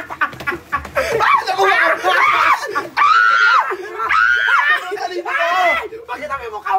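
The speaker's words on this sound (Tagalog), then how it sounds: "Ganun siya tumili." A woman's high, rising shrieks come in several bursts, mixed with laughter and chatter from others close by.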